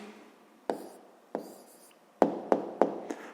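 Pen or pencil writing an answer on paper during a 6th-grade maths exercise, a few distinct close taps and short strokes separated by quiet gaps.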